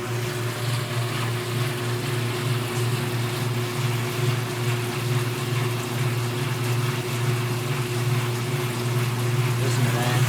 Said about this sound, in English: Sucking out all the water